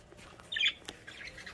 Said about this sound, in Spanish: Tenemos los periquitos aquí abajo, están sacados.